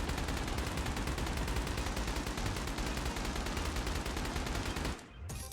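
A light machine gun in a video game fires a dense, continuous stream of loud automatic rounds with no gaps, stopping abruptly just before the end.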